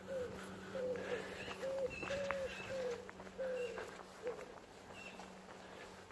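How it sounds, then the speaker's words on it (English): Outdoor birdsong of pigeons and blackbirds, repeated soft cooing and scattered chirps against a steady low background hum, moderately distant, no talking. "I can hear pigeons, I can hear blackbirds"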